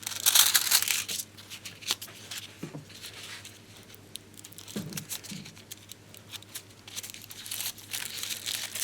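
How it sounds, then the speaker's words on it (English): A knife cuts into the aluminium layer of a mobile phone battery and peels it away, giving close, uneven crinkling and tearing with scattered soft scrapes. "if we slide a knife down there, we can actually cut open that aluminium and unwind this"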